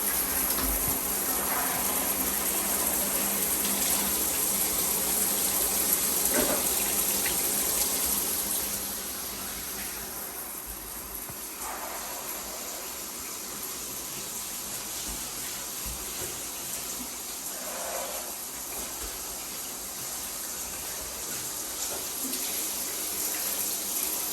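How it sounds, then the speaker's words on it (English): Running water sprays and splashes steadily against bathroom shower walls, with a continuous gushing hiss that grows quieter partway through. "I'm going to rinse the shower walls"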